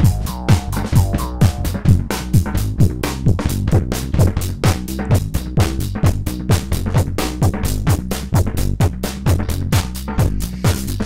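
A dense, rhythmic music loop heavily saturated by the Righteous plugin pushed hard, with thick, crunchy distortion on punchy repeated hits throughout, loud and continuous, with no voices.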